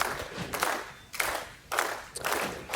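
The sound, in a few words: bowling crowd cheering and clapping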